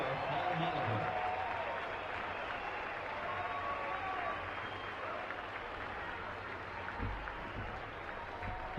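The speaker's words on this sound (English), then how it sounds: "The crowd, and it is not a big crowd, but they're giving Molly a standing ovation" A modest ballpark crowd gives Paul Molitor of the Minnesota Twins a standing ovation in 1996, steady applause and cheering that swells early and holds throughout under a broadcaster's voice.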